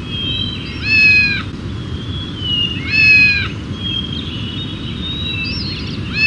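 Two clear high kitten meows, about two seconds apart, sound over a steady game background bed in a Barbie animal-rescue video game, followed by softer chirpy tones.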